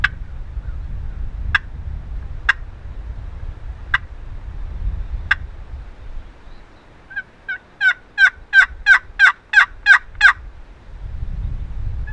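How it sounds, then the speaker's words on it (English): Wild Rio Grande turkey gobbling during a Kansas spring hunt, several sharp gobbles spaced out, then a fast rhythmic run of about eight clucking yelps from a box call, loud over faint wind and background noise. "I'm gonna hit the box call, see if I can't make him gobble."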